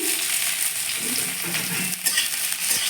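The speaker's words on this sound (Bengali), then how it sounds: "তেলটা আমার গরম হয়ে গেছে এবার কুচি করে কেটে রাখা আদা আর রসুন দিয়ে দিয়েছি এবার আমি পেঁয়াজগুলো দিয়ে দিচ্ছি" Chopped onions go into hot oil with minced ginger and garlic, giving a steady, loud broadband sizzle of frying that continues throughout with a few faint clinks, and no voices.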